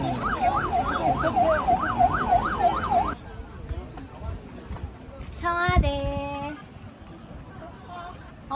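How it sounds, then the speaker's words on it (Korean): An ambulance siren wails, sweeping up and down repeatedly, fairly near, outside Cheong Wa Dae in Seoul, then cuts off into street noise; a brief horn-like tone sounds later. "지금 저기 보면 앰뷸런스가 왔어요."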